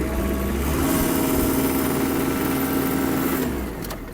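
A Kubota L1-325 mini tractor's engine revs up and holds a steady, loud drone in first low gear with the mechanical gearbox in forward, then eases off near the end.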